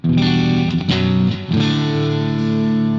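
A heavily distorted electric guitar chord through the PolyChrome DSP McRocklin Suite's tight switch rings out loud and thick, struck a few times then held, with a tight, compressed low end.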